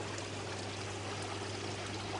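Continuous rushing of water flowing steadily up from a bottom drain into a vortex filter, a soft even stream with a low hum underneath and no talking.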